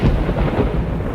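Deep rolling thunder rumbles loudly and steadily ahead of rain, a close, continuous low roar with no voices over it.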